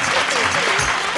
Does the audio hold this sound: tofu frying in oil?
no